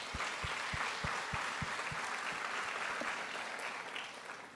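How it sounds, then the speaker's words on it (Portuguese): A congregation claps steadily, broad and sustained, with a few distinct rhythmic thumps early on, gradually tapering slightly toward the end. "Vocês podem aplaudir o Senhor."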